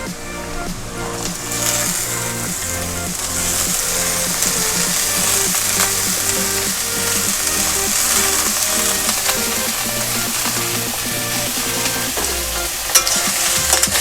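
Thin strips of gourd peel and potato fry in a pan with a steady, loud sizzle, while a spatula stirs and scrapes through them at a regular rhythm.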